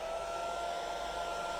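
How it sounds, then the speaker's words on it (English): A hairdryer blows steadily and loudly at close range for the whole moment, a continuous whirring rush used to dry stencil paint on an upcycled frame decoration. "I'm just going to give it a quick hit with the hairdryer"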